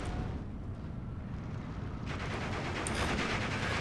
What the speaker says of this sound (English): More mortar fire on the AA.